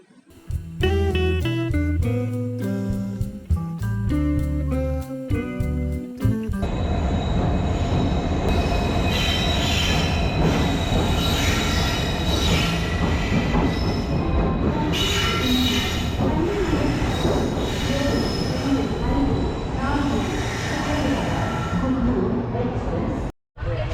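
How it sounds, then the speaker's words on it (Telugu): An express train rumbles and clanks loudly into platform one with wheels squealing, after a brief opening of music, continuing steadily to the end. "ఒకటి ప్లాట్ఫార్మ్ మీదకి ట్రైన్ వచ్చింది"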